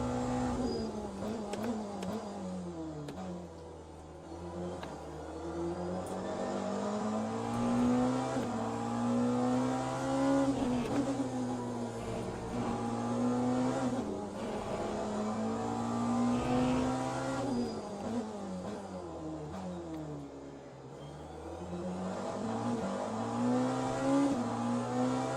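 Porsche race car in the Le Mans Ultimate racing game at Bahrain, its engine droning steadily with rising and falling revs through gear changes, loud and continuous, with no talk over it.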